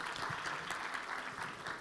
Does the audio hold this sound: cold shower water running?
no